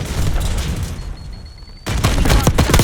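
Frag grenade blast in Call of Duty Black Ops 6 multiplayer: gunfire rattles, drops to a near-quiet lull with a thin tone, then a sudden loud burst erupts and keeps crackling with shots.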